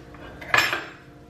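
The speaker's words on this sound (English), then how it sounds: "And then once she hears the spoon," A spoon clinks against a dish near a kitchen food scale, giving a short close rattle of a couple of metallic taps.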